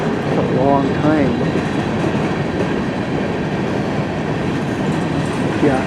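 A long CN M399 westbound freight train rolls past in Port Huron, Michigan in winter, a steady loud rumble of wagons and wheels, with brief speech early in the clip.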